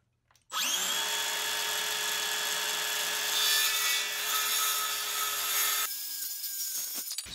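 Table saw ripping wood for custom in-wall shelves: the blade whines up at full speed, then holds a steady, fairly quiet high buzzing cut for about five seconds before dropping back to a lower spin-down hum.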